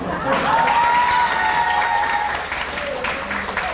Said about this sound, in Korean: 이분들은 특별히 박수 한번 주세요